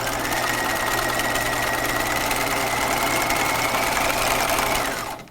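A sewing machine runs a long continuous seam on pajama fabric, a loud steady whirring rattle that holds throughout and stops abruptly at the end.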